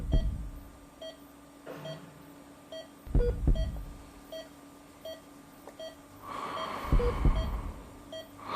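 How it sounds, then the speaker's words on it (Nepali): A phone's keypad sounds off with a string of short, evenly pitched beeps as a number is dialed, the tones spaced irregularly over a steady hum, with louder thumps and handling noise in between. "अब मोहनलाई फोन गर्नु पर्यो।"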